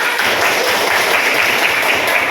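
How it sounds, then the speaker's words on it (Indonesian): Classroom children clapping their hands together, a dense, loud, continuous patter of many small hands close by, lasting the whole stretch without pause. "Kita kasih tepuk tangan ya"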